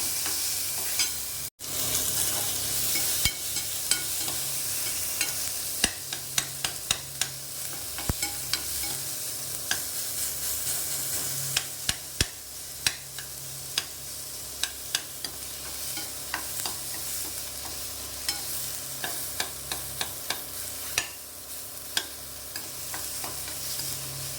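Onion and tomato sautéing together in a pan, a steady sizzling hiss with frequent sharp crackles and pops throughout, close and fairly even, no talking.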